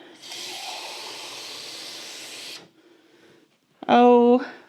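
Water pours into a crock pot of beef stew for a few seconds, a steady hissing splash that stops abruptly, followed by a short loud snort-like noise near the end.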